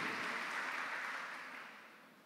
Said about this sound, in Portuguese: Igreja, vamos aplaudir Jesus pelos visitantes